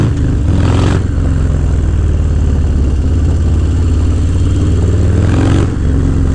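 A motorcycle rides through New York City traffic, its engine a loud, steady low rumble close up with slight swells as the throttle shifts, and the mix of street noise never lets up.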